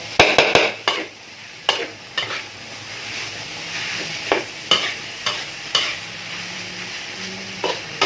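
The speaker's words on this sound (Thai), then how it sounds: "ผัดให้เข้ากันนะครับให้ เครื่องกับ เนื้อหมู เข้ากัน" Wild boar meat is stir-fried with curry paste in a pan, a continuous sizzle broken by repeated scraping and clacking strokes of a spatula, loud and close with no voices.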